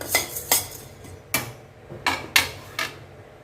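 Dry spices and asafoetida being stirred in an oil-free pan for a curd-curry spice mix, giving six sharp scraping clinks at irregular spacing over a faint steady background, with nobody speaking.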